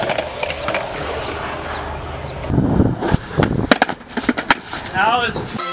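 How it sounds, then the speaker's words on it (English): Skateboard wheels roll and clatter on a triple set of stairs, with a steady rolling rumble, then a burst of sharp, loud impacts and clacks near the end, with a voice briefly heard. "this is exactly how I try to skate down something"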